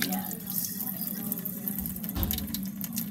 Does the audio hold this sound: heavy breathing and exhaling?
no